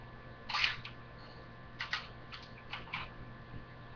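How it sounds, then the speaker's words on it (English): Mosin Nagant rifle bolt being worked open by hand: a sharp metallic clack followed by several lighter clicks and scrapes, close up and fairly quiet, with no talking. "I open up the bolt,"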